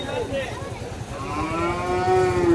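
At a Qurbani cattle market, a cow lets out a loud, close, drawn-out moo over a low murmur of crowd background.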